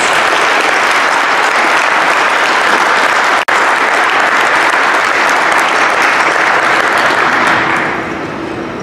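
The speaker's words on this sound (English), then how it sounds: "I think that deserves a final round of applause for us." An audience at a high school academic awards night gives a sustained round of loud applause that holds steady for several seconds, cuts out for an instant, then softens near the end.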